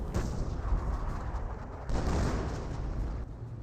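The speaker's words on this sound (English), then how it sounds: "Yep, sector artillery now running on in." Sector artillery barrage in Company of Heroes, a dense continuous rumble of distant shell impacts and booms rolling on without pause, with no voices over it.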